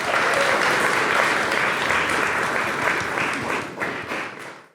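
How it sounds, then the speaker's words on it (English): A sustained round of audience applause at a climate week event in New York City, many hands clapping in a dense steady wash that tapers off near the end, with no voices over it. "let's give a round of applause for Nicholas"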